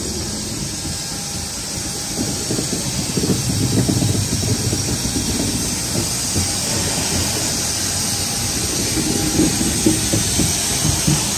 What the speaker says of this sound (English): the train approaching the 1842 service to Marley